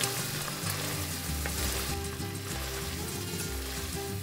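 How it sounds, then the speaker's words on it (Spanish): Diced onion and corn kernels fry with cooked ground beef in a pan, making a dense, even sizzle and crackle, close and steady, with faint stirring movement throughout. "agregamos la cebolla, los granitos de elote y los freímos junto con la carne."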